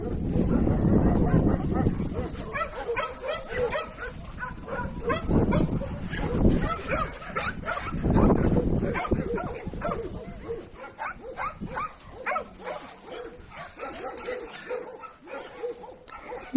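Rescued puppies bark, yip and whimper over and over in a quarantine enclosure, loud and close. The sounds overlap in a busy, continuous stream, with wind buffeting the microphone now and then.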